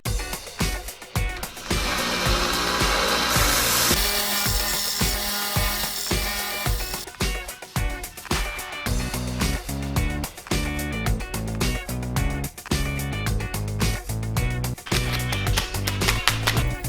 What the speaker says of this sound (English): time to sand them up so the paint will hold to them. PVC is very slick, so might take a while